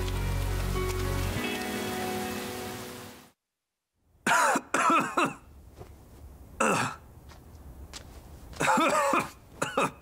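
A person with a cold, just caught in the rain, coughs in several separate bursts after a steady tone fades into silence. The coughs are close and fairly loud, with quiet gaps between them.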